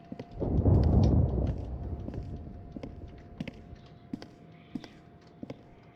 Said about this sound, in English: That thunder is something, ain't it?